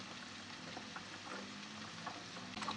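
Eggs with onion, salt and chili flakes stirred in a frying pan, a steady soft sizzle with faint scraping taps of the utensil throughout, close and even.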